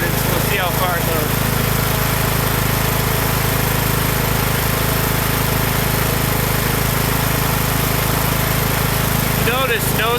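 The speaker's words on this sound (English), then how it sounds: "Notice no stuttering from the engine with the choke all the way forward because we're adding fuel." A lawn tractor engine converted to run on ethanol, choke pushed fully forward, runs steadily and loudly without stuttering, with brief rattling noises near the start and end.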